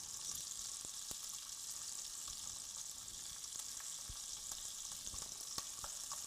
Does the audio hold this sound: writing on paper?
no